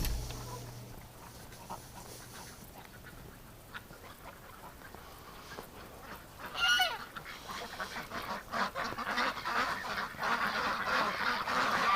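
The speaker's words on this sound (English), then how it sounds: "You're out really early today, ducks." Ducks quack and honk in a noisy winter flock in the early morning, calls overlapping and growing louder, with one sharper burst of calls partway through.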